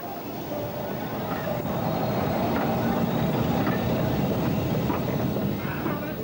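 A train rolls past with a steady, loud mechanical rumble and faint rail clatter, while a voice talks over it.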